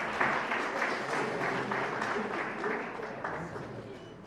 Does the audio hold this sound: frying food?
no